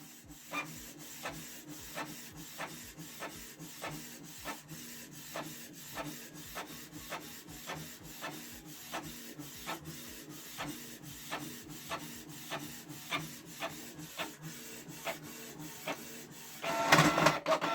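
A Canon Pixma G3410 inkjet printer runs a page, its carriage ticking in a steady, evenly spaced rhythm, ending with a louder burst of mechanical whirring.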